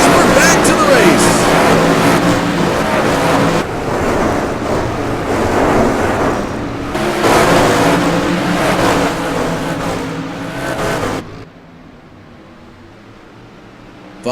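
Sprint cars in the JSRL 360 Sprint Car Series race at Irwindale Speedway after a green-flag restart, engines roaring loud and steady as the pack sweeps past with a commentator talking over them, before the noise drops away near the end.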